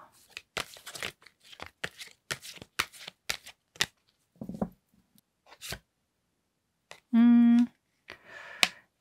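Tarot cards are shuffled close by in quick riffling bursts of crisp flicks and slaps. A short steady electronic tone sounds near the end.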